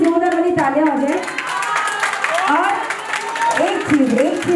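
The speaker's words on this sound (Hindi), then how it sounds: "तो पहले तो जीजा जी के लिए जोरदार वाली तालियां हो जाए।" Guests at an Indian haldi and engagement celebration clap and cheer, with overlapping lively voices and children's chatter mixed through the applause.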